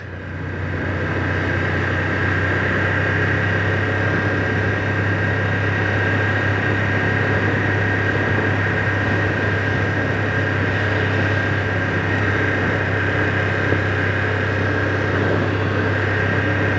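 A 2025 BMW F900R motorcycle engine runs steadily while riding in second gear at about 30 mph, giving a constant low hum with a steady higher tone on top, close and continuous, with no talking.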